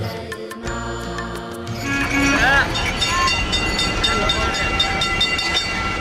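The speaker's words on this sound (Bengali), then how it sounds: "ট্রামের ঝিরিং ঝিরিং," A Kolkata tram running along its rails, rumbling and clattering up close with ringing, whistle-like tones over a busy street hum; a voice is also present.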